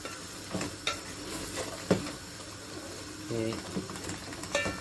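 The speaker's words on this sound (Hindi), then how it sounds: "इसको तकरीबन हम 7 से 8 मिनट भूनेंगे ताकि मसाला सही पक जाए, मसाले के अंदर ऑनियन ठीक हो जाए" Biryani masala and onion being fried and stirred in a pan, a steady sizzle broken by a few sharp scrapes of a spoon against the metal, with brief speech over it.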